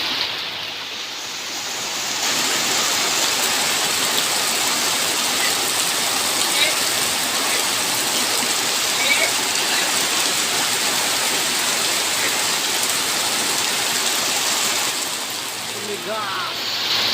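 Steady, dense heavy rain hisses loudly in Kedabuan, Indonesia, for most of the stretch, rising in and tapering off near the end, with faint voices underneath.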